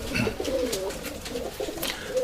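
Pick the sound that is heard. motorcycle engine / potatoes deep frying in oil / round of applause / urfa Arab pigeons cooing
urfa Arab pigeons cooing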